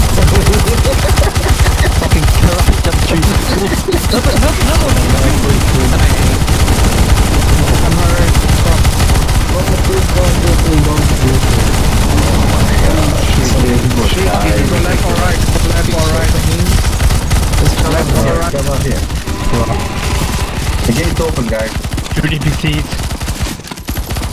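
Rapid automatic gunfire from a CS:GO Zombie Escape match as players shoot NPCs, dense and continuous bursts filling the whole stretch at loud level, with game sounds and player voices mixed in.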